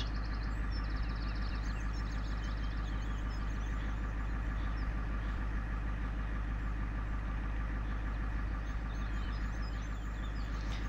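A vehicle engine idles in Farming Simulator 17 while hauling hay, a steady mid-pitched rumble that holds constant and fairly loud for the whole stretch with no revving and no voices.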